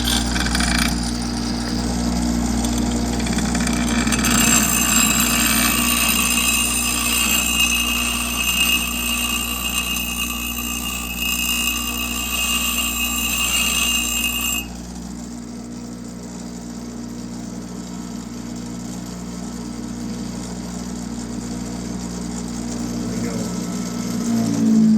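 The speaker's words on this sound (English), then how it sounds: "This grinder is not meant to take off material." A Baldor bench grinder hums steadily with a bright whine close by, then at mid-point the tone drops and settles into a quieter, lower run.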